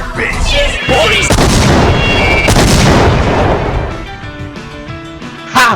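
A grenade goes off in a video game, a loud booming blast followed by sharp gunfire-like bursts and rumbling debris, with a voice talking briefly over the chaos.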